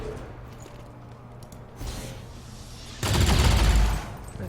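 A quick volley of rapid gunfire from XCOM 2: Long War 2 cuts in loudly after a few quiet seconds of low game ambience, then lasts about a second before fading.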